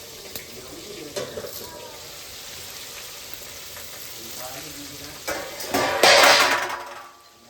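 Food sizzling and frying in hot oil while pav bhaji is cooked at home, a steady crackle underneath that swells into a louder burst of sizzle near the end, with a few clinks mixed in.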